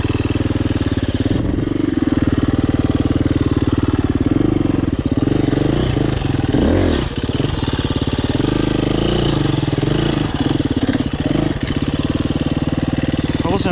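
A KTM 350 EXC-F enduro motorcycle rides a new trail over rocks. The engine thrums loud and close and never lets up, with throttle changes and occasional clatter, and a rider's voice is heard over it.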